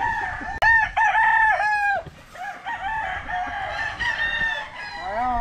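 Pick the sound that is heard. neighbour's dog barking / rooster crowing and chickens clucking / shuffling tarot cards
rooster crowing and chickens clucking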